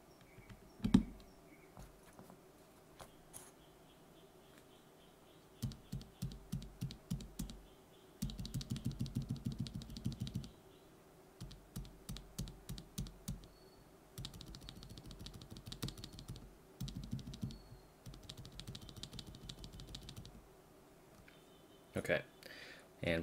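Bursts of typing on lubed and filmed mechanical keyboard switches, close and crisp, with quick runs of keystrokes separated by short pauses and a few isolated clicks.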